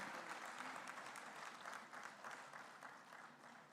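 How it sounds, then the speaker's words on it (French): Audience applause greets the mayor of Grenoble at the opening of the 20th OIDP conference in Cocody, Abidjan: steady, dense clapping from a large hall, even and sustained throughout, without speech. "On accompagne par les applaudissements Monsieur le maire de Grenoble, Monsieur Éric Piolle."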